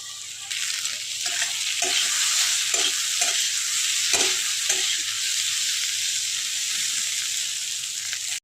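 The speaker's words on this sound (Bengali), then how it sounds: "আলুগুলো একটু ভালো করে একটু কষে নেব, লাল লাল করে।" Potatoes sprinkled with turmeric are stir-fried in a pan, a steady loud sizzle running throughout with soft scraping stirs breaking in at irregular intervals.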